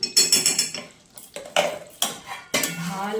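Metal spoon scraping and clinking against a pan while potato dum is stirred with a spoonful of ghee, a burst of quick clatters followed by three separate louder scrapes, close and alone.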